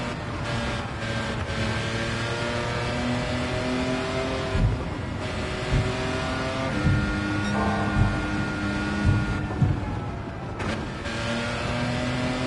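A Toyota 2000GT in the Gran Turismo 7 racing game holds a loud, steady engine drone with a layered harmonic whine, the revs swelling and easing slightly throughout, with no talk.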